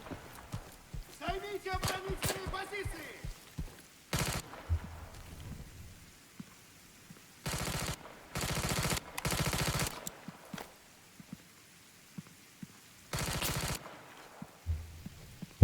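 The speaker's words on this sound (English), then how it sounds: "Who's shooting and where are they shooting from?" Enemy gunfire in a military video game recon mission arrives in several dense bursts, some long and sustained, between quieter stretches with someone talking over the background.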